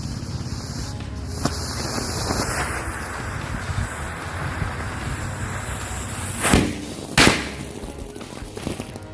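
Firecrackers set off beside a house go up with hissing, fizzing bursts and a few sharp cracks, two louder bangs standing out near the end amid crackling noise.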